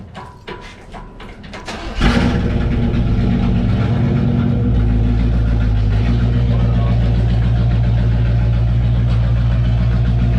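A 1979 GMC One Ton 4x4 van engine starts with a sharp catch after a moment, then settles into a loud, steady idle with a deep low rumble that holds throughout, close to the listener.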